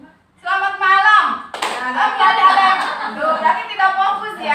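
A classroom group claps together in a call-and-response clapping game, a brief burst of many hands followed by sustained loud chatter and children's voices over it.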